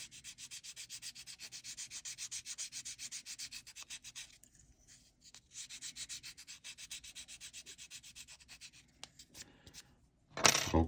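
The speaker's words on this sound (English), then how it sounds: "we've started sanding it down" Rhythmic rasping of sandpaper on bassoon reed cane, quick regular back-and-forth strokes, pausing briefly midway before resuming, then a louder scrape at the end.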